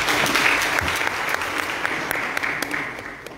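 An audience at a presidential launch of a fish harvesting project with a women's cooperative gives a round of applause, a dense, steady clapping that carries on for several seconds.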